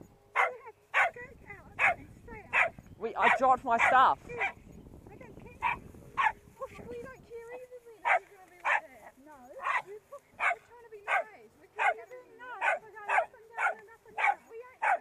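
Dog barking repeatedly in a steady rhythm near a group of bikers, loud and close, with several people talking over the first few seconds.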